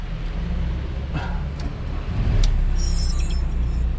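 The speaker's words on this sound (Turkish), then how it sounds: "Çıkar abi arabayı çalıştır" A high-roof Volkswagen Transporter van being converted into a campervan idles with a low steady engine rumble that grows slightly louder partway through, with a few brief clicks and a short electronic beep near the end.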